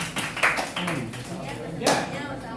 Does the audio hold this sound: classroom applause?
yes